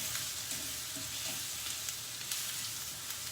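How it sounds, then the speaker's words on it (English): Minced garlic sizzles and roasts in a hot pan for an Indian vegetarian dish, a steady close crackling hiss with no voices over it. "our minced garlic, and let this roast first a little so that the raw flavor of garlic goes away"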